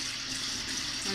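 A bathroom tap runs steadily into a sink to wet a toothbrush before brushing, a continuous close hiss of water with no speech over it.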